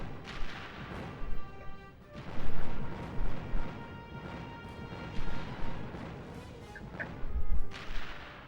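Missiles explode in a Ratchet and Clank video game: repeated heavy booms and blasts burst over a busy backdrop of game sound, several loud impacts spread irregularly across the stretch.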